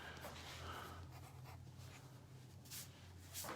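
Pen or marker scratching across paper while drawing a cartoon, faint continuous scribbling strokes close to the microphone, no talking.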